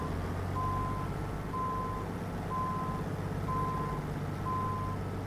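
A truck hauling a container trailer backs up in American Truck Simulator, its reversing alarm beeping five times at steady one-second intervals over a constant low engine drone, with no voices.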